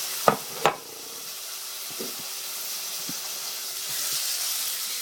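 Tomato and chili dropped into a hot pan for sweet and sour pork: two sharp hits at the start, then a low steady sizzle with a few soft stirring knocks, close and without talk.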